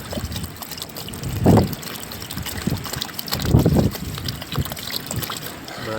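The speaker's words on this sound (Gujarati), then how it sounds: "હા તો ભાઈ પાણી રેડવાનું છે ઘણું બધું." Water poured in bursts into a cooking pot while a prawn dish is being made, two gushing pours of a second or so each standing out over a busy kitchen background.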